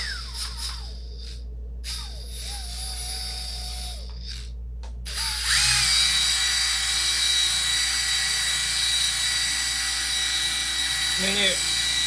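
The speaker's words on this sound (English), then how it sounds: "I bought a Dremel buffing tool that looks something similar to this." A battery-powered Dremel buffing tool runs with a high, steady whine, starting after a few stop-start bursts and continuing loud and close, with a voice heard early on.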